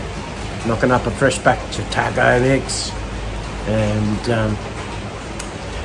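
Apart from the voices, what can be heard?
steady drizzling rain in Thailand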